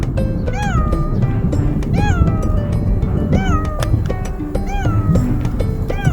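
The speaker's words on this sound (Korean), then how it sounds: "고양이다" Repeated cat meows, several distinct calls spaced through the clip, close and clear over steady outdoor background noise.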